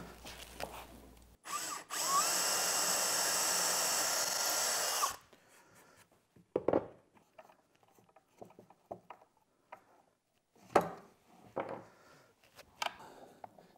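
A power drill bores into wood steadily for about three seconds, then stops, followed by scattered knocks and light handling noises.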